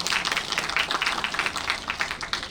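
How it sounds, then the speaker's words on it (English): An audience applauds a charity panel at a volunteering event with steady, dense clapping that fills the room, continuous and moderately loud with no voices over it. "Round of applause, please."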